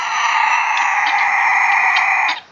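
An Australorp rooster crows loudly and close by, a single long sustained call that holds steady for over two seconds before cutting off abruptly.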